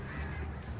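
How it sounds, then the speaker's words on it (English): Crows caw in the video game Alan Wake, a single short harsh call over a steady dark ambient background, moderately distant and brief. "Of course we find birds."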